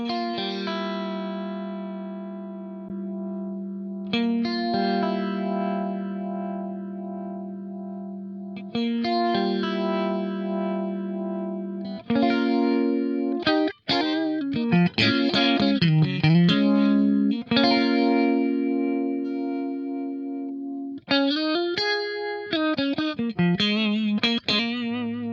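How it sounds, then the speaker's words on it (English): Guitar played through a BOSS MD-500 modulation pedal in vibrato mode, trying both prime and scanner settings; sustained chords and single notes with a wavering pitch shimmer, several phrases with brief gaps, clean and upfront with no voices. "we've got the actual vibrato mode"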